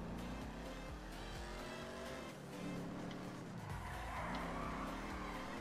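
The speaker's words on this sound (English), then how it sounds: "I'm just going to shut the fuck up for a sec so we can hear and enjoy this engine." An old-school muscle car in the GTA V video game revs and roars loudly and continuously, with shifting engine pitch and tire squeal as it drives hard.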